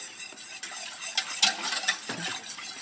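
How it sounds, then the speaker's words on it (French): Béchamel sauce made with milk being whisked for a lasagne with fish and vegetables, a busy close scraping and stirring with light metallic clinks running steadily for about three seconds, no voices. "tout bien mélanger hein, pour qu'il n'y ait pas de grumeaux qui se fassent dans la béchamel"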